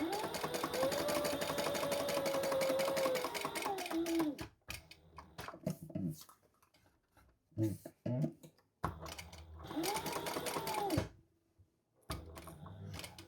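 A sewing machine stitching a custom white Croc runs in a steady close whir for about four seconds, stops while fabric is handled, then runs again briefly near the end.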